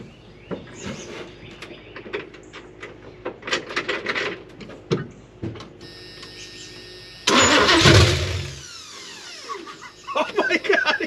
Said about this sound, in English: Oh my God, it cranked up.